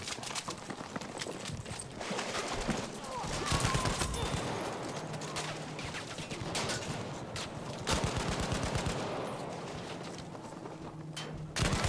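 Dense automatic gunfire from the Battlefield V video game, rapid bursts and sustained fusillades close up and loud, overlapping with other in-game battle noise throughout.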